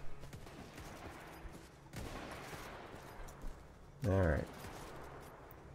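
Rifle shots in Mount & Blade Warband's Parabellum mod ring out across a hilltop battle, sharp reports scattered over several seconds amid battlefield din, with one loud close blast near the end; someone speaks briefly.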